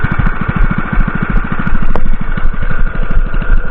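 A 212 small engine runs close up at a fast, steady idle, its rapid even pulses thumping loud and alone without pause.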